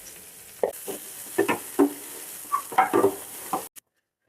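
Finely cut green chillies and onions dropped into a hot pan, with faint sizzling and several distinct stirring scrapes and clatters, then an abrupt stop.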